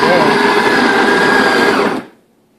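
Bodum Bistro electric burr coffee grinder grinding coffee beans into its catcher, giving a loud, steady, close whirring drone with a faint rising whine for about two seconds before it stops sharply.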